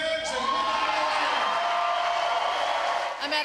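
Boisterous crowd of several hundred at a Tea Party rally in a Tampa church, cheering and whooping steadily at moderate level through the whole stretch.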